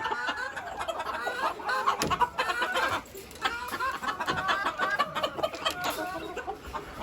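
Silkie chickens and roosters in breeding pens, two roosters to a pen, cluck and call steadily. A busy, overlapping chorus of close, fairly loud clucks and short squawks runs throughout.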